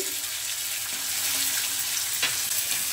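Spices and tomato paste with ground cumin fry in a pan for potol kasa, making a loud, continuous hissing sizzle with a couple of brief stirring knocks.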